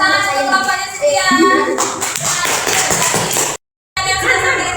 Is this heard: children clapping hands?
yes